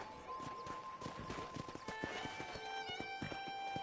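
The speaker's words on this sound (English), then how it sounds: "I picked out a fine horse for you." Rhythmic clip-clop of horse hooves close by in the video game Red Dead Redemption, a steady walking beat with a whinny partway through, fairly quiet overall.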